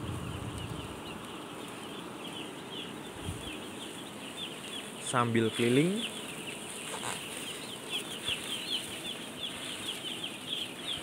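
Day-old broiler chicks in a closed-house poultry barn keep up a dense, high peeping chorus under fan hum, while someone speaks briefly nearby and a louder flurry of cheeping rises partway through.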